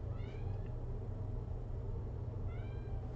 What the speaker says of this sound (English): If you hear that meowing